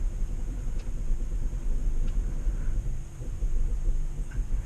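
Mitsubishi Outlander PHEV crawling uphill offroad in a backyard, a steady low rumble of drivetrain and tyres with some wind buffeting, close and continuous with no voices.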